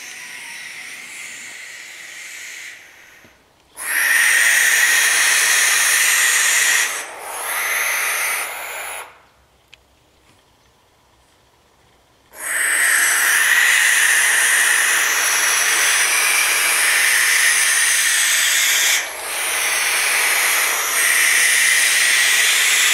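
Barn owl chicks in a nest inside a house in Santa Fe, Argentina, give long, loud, harsh hissing screeches, several sustained bursts separated by brief pauses, close and with no voices.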